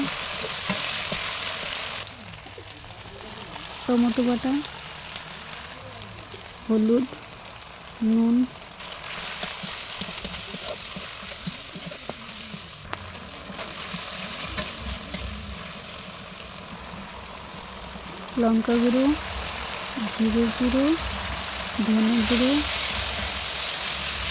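Onion, ginger and chili paste fries in hot oil, making a dense, loud, continuous sizzle close by. Brief pauses and clanks from stirring break it up, and short stretches of other sound come and go.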